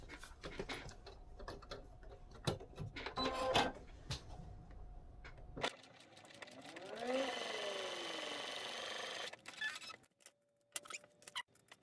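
A sewing machine stitches a fabric wallet, likely fitted with a zipper foot: scattered clicks and handling taps, then one sustained whirring run of several seconds, followed by quieter clicks and a short hum near the end.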